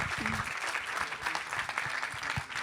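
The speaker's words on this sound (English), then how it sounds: "Can we give a clap for the panel?" An audience at a forum on the creative economy applauds a panel, steady dense clapping from many hands with a brief voice sounding over it.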